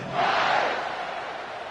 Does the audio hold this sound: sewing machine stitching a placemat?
no